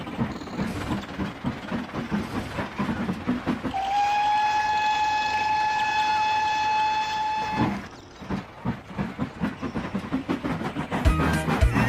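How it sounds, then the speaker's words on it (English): A steam train whistle sounds one long, steady tone for several seconds over the rhythmic clatter of rolling wheels, which continues after the whistle stops. "They started at opposite ends and whistled to each other as they passed."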